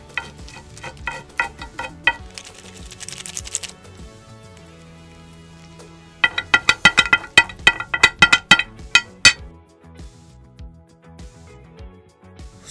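Ten packs of spicy Mie ABC instant noodles tossed with chili oil, a close series of wet clacks and slaps in uneven bursts from the stirring, with a denser run of strokes toward the end.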